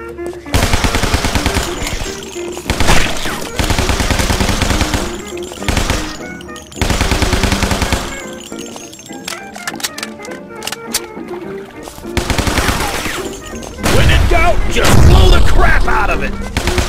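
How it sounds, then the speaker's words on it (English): Tommy gun in the gangster shooter Guns, Gore & Cannoli firing in loud, sustained automatic bursts, separated by short pauses and mixed with heavier booms, with some game dialogue. "Tommy gun."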